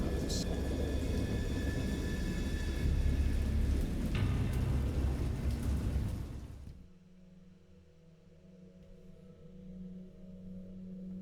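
Heavy rain pours with deep rolling thunder, loud and close, then the storm noise cuts off abruptly to near quiet.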